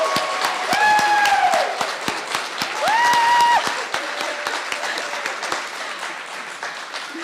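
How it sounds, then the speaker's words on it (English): A room full of people applauds at a Ball State University School of Nursing pinning ceremony. Steady, dense clapping rises and falls over several seconds, and bright whoops and whistles cut through the crowd. "would you please rise and join me in giving a round of applause to our village"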